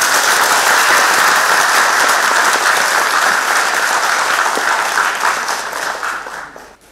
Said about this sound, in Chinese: 请大家以热烈掌声欢迎阿成先生。